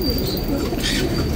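A racing pigeon gives a soft, low coo up close, a brief continuous murmur over steady background noise.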